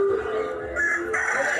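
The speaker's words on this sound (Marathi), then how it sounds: "कोंबड्या बघा गाईज इथं." Chickens in an animal park give a short, close burst of clucking and crowing calls, with no one talking.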